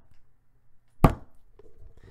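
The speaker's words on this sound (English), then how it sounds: "So I thudded my hand against the desk." A hand thuds once against a desk, a single short, heavy, low impact that rises sharply from near silence and fades quickly, close to the mic and with no other sound.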